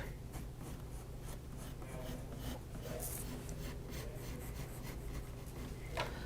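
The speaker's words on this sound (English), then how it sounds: "I'm just going to draw another heart inside" A pen draws a heart shape on paper, giving a continuous soft scratching and rubbing of the tip across the sheet at close range, with no talking.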